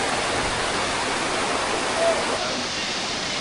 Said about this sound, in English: look at waterfall!